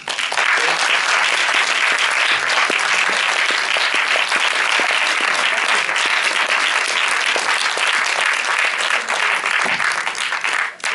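A cinema audience gives sustained, dense applause at a special screening, a loud and even wash of many hands clapping that continues unbroken for several seconds before tapering at the end.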